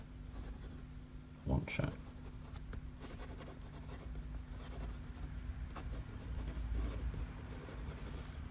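Fountain pen scratching across fountain-pen-friendly notebook paper, a faint continuous scritching with a couple of sharper strokes, close and quiet, while a person speaks briefly.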